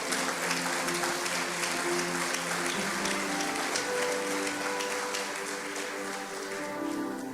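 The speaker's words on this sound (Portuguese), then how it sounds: "Diga glória a Deus e aplauda a Deus." A church congregation breaks into sustained applause for God, a broad wash of many hands clapping throughout, steady and fairly loud, with a low sustained musical tone underneath.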